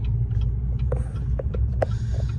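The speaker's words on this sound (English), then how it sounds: "Dude, this engine sounds horrible." A Duramax diesel truck engine runs roughly, a low uneven rumble with irregular knocks and clatters close by, no talk over it.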